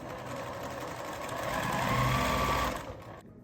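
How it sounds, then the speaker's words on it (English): A domestic sewing machine stitching the last side seams of a quilt block, a steady close whirring hum that swells slightly in the middle and then stops abruptly near the end, with no voices. "I'm going to sew up these last 2 side seams."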